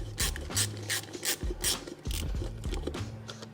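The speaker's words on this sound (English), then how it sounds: "So I'm gonna try to remove those screws, and let's see if it comes loose when I get those out." Screws are worked loose from the velocity stack of a Kawasaki NX500 motorcycle, a series of close, rhythmic ratcheting and rasping strokes repeating about every half second.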